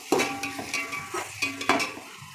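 Tomatoes sautéing in a pan for kuska biryani, with a soft sizzle broken by several stirring scrapes and light utensil clinks, heard up close with no talking.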